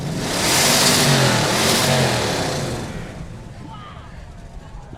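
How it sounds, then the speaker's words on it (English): A purple Dodge Challenger muscle car at a Fourth of July parade in Butte revs its engine loudly for a few seconds, the roar then easing to a lower rumble, with crowd voices and chatter around it. "This is what a purple Charger sounds like."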